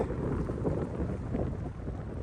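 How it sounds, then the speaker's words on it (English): Loud, rumbling buffeting of wind hitting the microphone, continuous and gusty throughout, with no speech. "Sorry about the wind."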